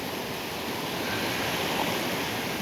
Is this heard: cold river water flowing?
yes